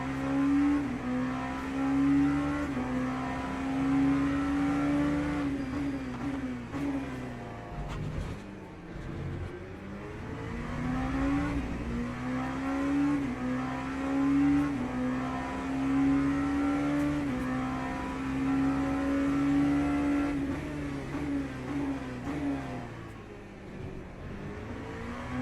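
A Ferrari GT3 race car in a racing video game, with a continuous loud engine whine rising and falling as it shifts through gears and brakes for corners, dipping briefly near the middle before accelerating hard again.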